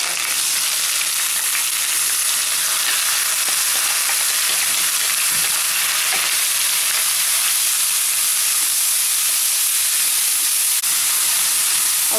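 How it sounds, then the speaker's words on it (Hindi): Onion, garlic and ginger fry in a pan with a continuous, loud, even sizzle and occasional faint stirring scrapes, with no talking. "प्याज को लाइट ब्राउन होने तक भूनना है"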